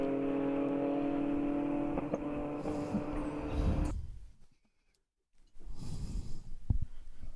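Race cars, among them a Mustang, run through a bend at Road America in an endurance race, loud engine roar holding steady before cutting to near silence, then picking up again with engine noise.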